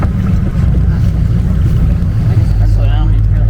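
A motorboat engine rumbles steadily up close as the boat approaches a dock, mixed with gusty wind buffeting the microphone.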